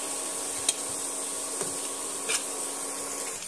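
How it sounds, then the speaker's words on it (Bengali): Three dried red chillies frying with onion in a pan until crisp, giving a quiet, steady sizzle broken by a few soft stirring clicks, with no voices. "লঙ্কাটা আমি পেঁয়াজের সঙ্গে এইভাবে একটু লাল লাল করে একদম মুচমুচে করে ভেজে নিতে হবে।"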